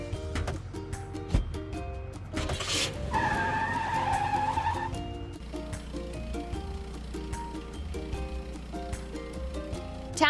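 A cartoon car in a kids' truck simulation game skids along with tire squeal and engine noise over steady, looping game music, loud and continuous with a brighter whooshing burst partway through.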